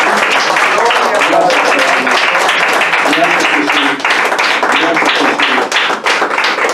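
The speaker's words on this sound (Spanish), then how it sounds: "Dale un fuerte aplauso al Señor." A church congregation claps loudly and continuously through a healing and salvation teaching service, a dense patter of hands with a voice speaking briefly over it.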